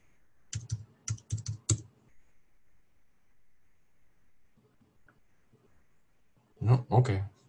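Keystrokes on a computer keyboard while an object number is entered into admin software, two quick close bursts of clicking near the start and another near the end, with quiet pauses between.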